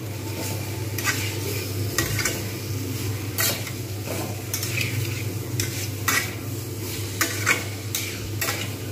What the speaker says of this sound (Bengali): তেল ছাড়তে শুরু করবে, ভালো করে এটাকে নাড়তে হবে।